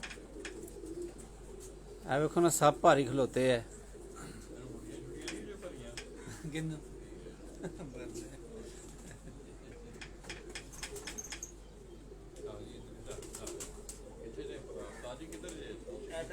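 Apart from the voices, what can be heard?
pigeons cooing on a rooftop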